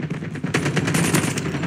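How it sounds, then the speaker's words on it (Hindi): A death machine gun in a video game fires a rapid, loud, continuous burst of close shots that sounds steady and mechanical, with no talking. "डेथ मशीन गन की बात कर रहा हूँ।"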